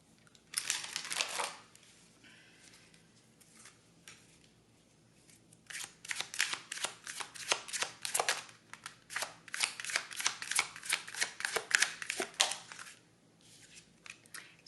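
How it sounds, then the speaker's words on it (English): Oracle cards are shuffled by hand in crisp, rapid riffling bursts, a brief flurry first, then a long run of quick papery flicks, close and soft with no talking. "I'm going to pull 2 more oracle cards for you."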